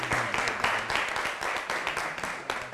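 An audience in a hall claps for a student speaker, a close, uneven patter of many hands that carries on from start to finish, with faint voices beneath.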